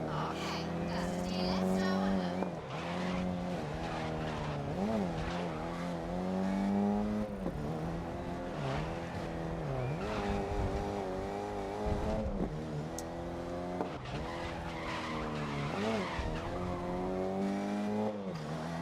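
A Mini Cooper drifting in the racing game GRID (2019): a continuous high revving engine that rises and falls, with tire screech and skidding mixed in throughout the lap.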